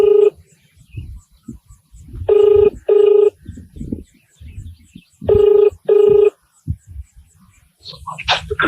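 Telephone ringback tone while calling a state agriculture minister, four loud, clean electronic rings in two evenly spaced pairs, separated by quieter background noise and faint chatter.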